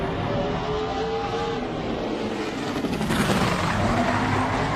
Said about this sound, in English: heard the engine revving, and you heard the rear tires hopping on and off the racetrack